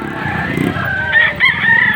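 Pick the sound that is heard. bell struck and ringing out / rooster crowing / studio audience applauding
rooster crowing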